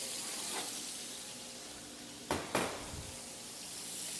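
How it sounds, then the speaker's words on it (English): Duck breast hits a hot pan, steady low frying hiss with two sharp louder bursts of sizzle as the meat goes in, heard alone and fairly quiet. "When you hear a sizzle, that means it's hot enough to put in."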